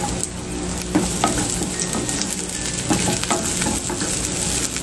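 Garlic and onion sautéing in cooking oil in a pan, with a steady dense sizzle throughout, close and fairly loud, and occasional soft stirring scrapes over it.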